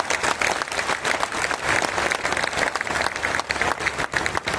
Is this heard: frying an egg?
no